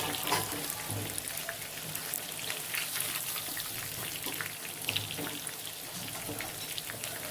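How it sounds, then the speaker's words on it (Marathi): Masala-soaked soybean chunks fry in hot oil for a soybean chilli, giving a steady, close sizzle of crackling pops that stays even throughout with no speech. "गरम तेलामध्ये आपण सोयाबीन तळण्यासाठी टाकलेली आहे"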